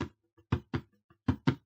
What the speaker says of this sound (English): It's all these little tips and taps that you put in between the hits